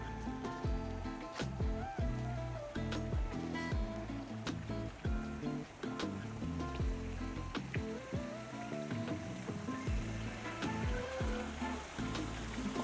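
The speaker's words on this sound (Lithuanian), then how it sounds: "Fontanas biškį pasipriešino, nenorėjo, kad vandenį patikrintum." Splashing water from a fountain in an old town square, a steady, dense rushing spray with irregular splashes, close and continuous with no talk.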